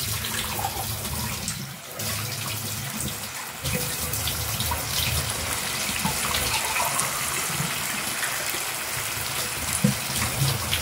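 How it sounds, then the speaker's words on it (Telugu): Water poured from a glass into a pot of tamarind curry with brinjal, raw mango and egg, a steady close gush and splash running continuously with a brief dip early on. "వాటర్ అయితే వేసుకుందామండి."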